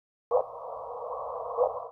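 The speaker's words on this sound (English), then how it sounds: "This is the sound of two black holes." A NASA data sonification of two black holes plays as one steady, droning synthetic tone lasting under two seconds, with a short chirp where it starts and another near the end, then silence.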